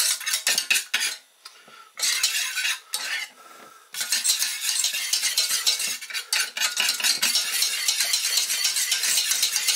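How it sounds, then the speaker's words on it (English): A utensil stirs grated cheese into a thick Mornay sauce in a pan, giving steady scraping and clinking strokes against the metal, close and continuous apart from a couple of short pauses. "into that goes your grated cheese, and you stir until all that turns into a delicious thick sauce."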